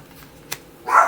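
A single dog bark, short and muffled, sounds near the end of an otherwise quiet moment, with a faint click just before it.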